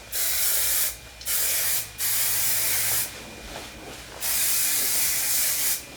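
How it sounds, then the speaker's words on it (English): Several close aerosol spray bursts of hair aerogel product of varying length, hissing on and off with short pauses between, no voices. "Spray that on all over."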